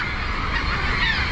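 A goose-like bird honks near Niagara Falls at the Cave of the Winds, set against a steady broadband roar of rushing water.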